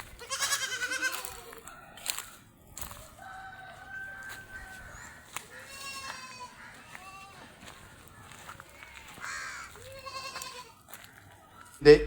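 Goat kids bleat in short, wavering cries at a livestock sale, several calls overlapping one another, with people talking in the background.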